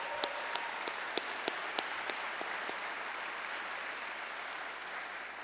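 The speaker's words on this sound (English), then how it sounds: "So I think we should give Alan Grammy another round of applause." Audience applause at a college hall of fame induction ceremony honoring a distance running coach, a dense wash of clapping with a few sharper near claps at a steady beat in the first half, fading gently toward the end.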